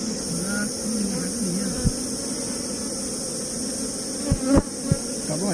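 Wasps or bees swarm around a nest outdoors with a steady, dense buzzing drone that runs throughout. A few short knocks and thumps are heard near the end.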